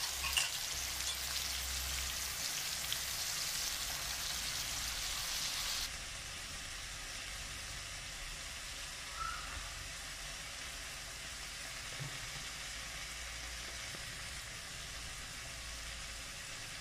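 Tuna sarsiado fries in a pan with a steady, soft sizzle throughout, brighter and hissier for the first few seconds, then settling into a quieter low crackle.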